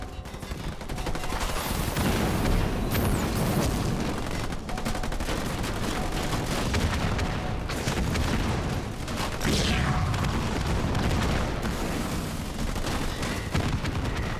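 Units firing on a base in the Halo Wars 2 strategy game: a constant, dense barrage of rapid gunfire and machine-gun bursts, punctuated by booms, stays loud and unbroken throughout.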